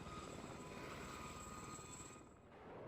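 A small helicopter in the WARNO strategy game, its rotor throbbing as a steady, close, continuous chop with engine whine, easing slightly near the end before swelling back.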